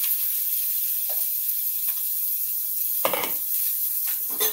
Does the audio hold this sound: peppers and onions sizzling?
yes